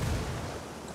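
Frag grenade blast in the Ghost Recon video game, a low booming burst that rumbles and fades over a second, fairly faint with no voices.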